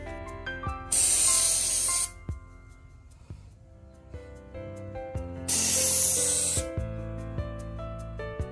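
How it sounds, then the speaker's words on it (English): TEKORO waterproof leak repair spray paint hisses out of an aerosol can in two loud bursts of about a second each, separated by a pause, over quiet background music. "Make sure to spray in multiple layers for better coating."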